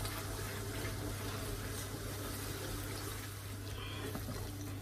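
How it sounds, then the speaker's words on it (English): Water is poured into a cooking pot for jollof rice as a faint, steady stream over a low background hum, with no one talking. "Then I'll start putting the water."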